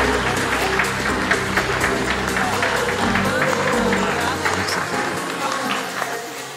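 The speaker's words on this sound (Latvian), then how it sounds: "Ar aplausiem" Audience applause at a Latvian panel event on future professionals and education, a dense crowd clapping close and steady before fading slightly at the end.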